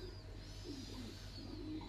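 A male pigeon coos in soft, low, repeated bursts, close by, over a constant faint background hum with no talk.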